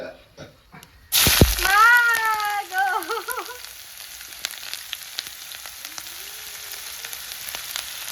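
Onion hits hot oil in a wok with a sudden loud sizzle that settles into steady frying crackle, while a person talks briefly over it.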